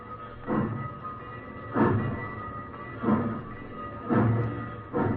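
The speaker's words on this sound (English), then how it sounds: "The train rolled across the fields and plains and sang out at night" A train rolls steadily along with rhythmic clickety-clack bursts roughly every second and a half over a constant low rumble, with no voices.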